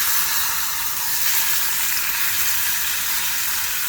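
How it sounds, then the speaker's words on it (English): Day lilies hit a hot pan of olive oil and butter, a loud steady sizzle and crackling hiss of sautéing that continues without a break throughout. "As you can hear when you hit that pan is nice and hot."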